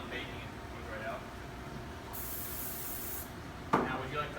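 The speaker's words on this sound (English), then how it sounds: "Now we're going to spray it again just so when it's done baking it comes right out." Non-stick spray hisses into a baking pan in a single steady burst of about a second, fairly close and alone, with a clatter just after.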